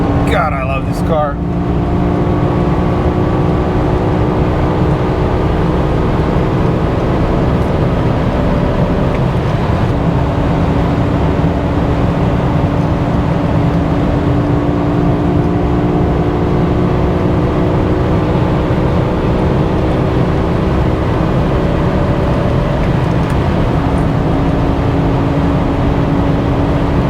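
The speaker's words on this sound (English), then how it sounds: "I love how this car screams now." A high-mileage BMW E60 M5 with a V10 engine and carbon intakes drones loudly from inside the cabin, its steady engine tone rising and shifting with speed. Road noise runs underneath, and a driver's voice talks over it.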